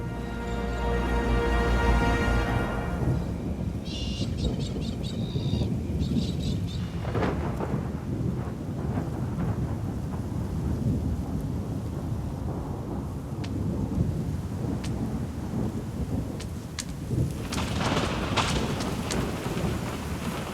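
Steady rain falls with rolling rumbles of thunder during a storm that follows Australian bushfires, filling the whole stretch with dense, continuous downpour and deep booms, loudest near the start and again toward the end.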